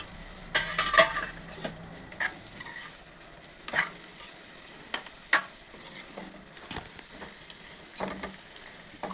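Bitter gourd pieces stir-frying in oil, a moderate sizzle broken by repeated clattering spoon strikes and scrapes against the pan in an uneven rhythm, no talking.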